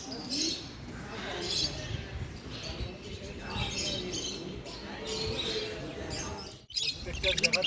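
Budgerigars in cages at a bird market chirp and tweet in busy overlapping bursts, close by, while people talk over them in a noisy crowd, with a sharp knock near the end.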